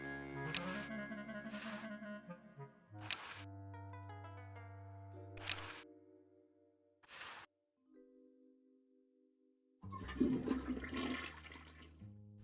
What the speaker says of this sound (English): Okay, I flushed it.